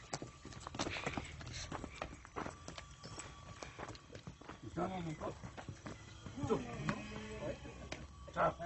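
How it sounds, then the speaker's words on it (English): A horse carrying a rider on a hike near the Chimalacatlan archaeological site in the Sierra de Huautla reserve clip-clops with uneven, close hoofbeats, mixed with people talking and calling out to the animal. "I'm riding a horse."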